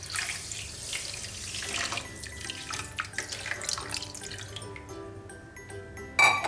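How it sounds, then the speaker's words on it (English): One cup of water pouring and splashing into a pan of sugar for jalebi syrup, a running trickle that thins out into drips before a short louder splash at the end. "we will add 1 cup of water."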